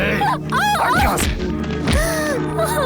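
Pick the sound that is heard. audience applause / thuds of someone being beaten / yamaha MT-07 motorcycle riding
thuds of someone being beaten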